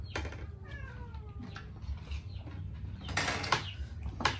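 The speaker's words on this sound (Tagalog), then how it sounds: "Naku, yung mga pusa mo na yan." A cat meows a few times at close range, a short plaintive call followed by softer mews, over a low room hum and faint clatter.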